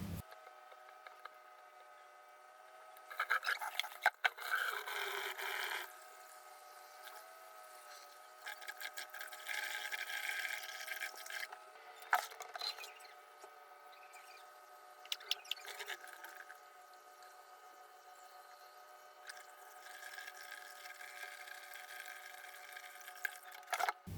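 Beef tripe being rinsed by hand in a kitchen sink with running water, giving intermittent bursts of splashing and dripping with quieter stretches between, fairly close and alone.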